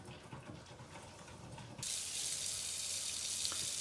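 Hot water starts pouring partway through for making gelatin, a sudden steady bright hiss of running liquid that continues to the end, following a quieter stretch with faint background noise.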